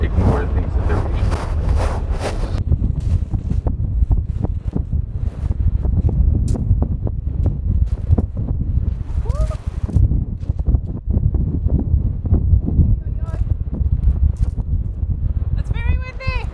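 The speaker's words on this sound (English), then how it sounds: "It's very windy." Strong wind blusters outdoors as heavy low-frequency buffeting against the microphone throughout, with people talking intermittently over it.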